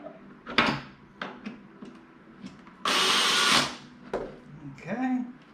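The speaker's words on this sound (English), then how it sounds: "have my drill ready" A power drill runs in a short whirring burst during assembly of a wooden ladder bookshelf, preceded and followed by light clicks and knocks of parts being handled, quiet and close, with a voice speaking softly nearby.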